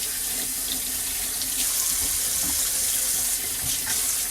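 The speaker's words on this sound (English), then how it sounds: "let me wash my hand real quick." Water runs steadily from a kitchen sink tap as hands are washed under it while cooking, a continuous close splashing flow with no talking.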